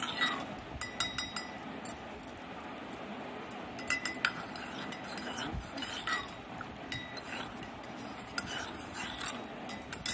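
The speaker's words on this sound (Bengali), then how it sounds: "ঘেটে নেবো, নাহলে এক জায়গায় দলা হয়ে থাকে, এই জন্য আমি একটু ঘেটে নিচ্ছি একটু।" A spoon clinks and scrapes against a bowl while sweet curd (mishti doi) is stirred, with irregular bright metallic taps over a soft background murmur.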